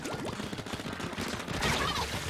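Rapid gunfire from the Splatoon video game, a busy fusillade of overlapping shots with dense game effects throughout, swelling louder toward the end.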